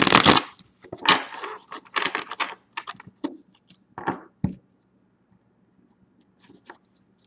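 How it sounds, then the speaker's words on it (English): A deck of tarot cards is shuffled by hand in quick bursts of crisp riffling and slapping, then a few faint taps as the shuffle ends and the cards settle, all close up with no talking. "Here's the shuffle for sublimation."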